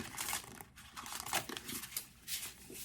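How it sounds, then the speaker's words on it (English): Quiet, close papery rustling and soft flicking as tarot cards are shuffled, with irregular bursts and no voices. "Give me one more shuffle."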